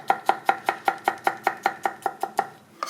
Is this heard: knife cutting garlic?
yes